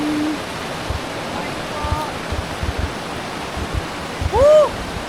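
Murky, canal-like water flows steadily at a private mountain resort in Teresa, Rizal, a continuous rushing wash heard close under brief voices and a few faint whistles.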